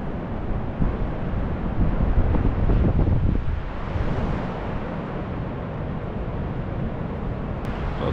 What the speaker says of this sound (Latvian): Stipri vēja neredz, var tikai viņu dzirdēt tur.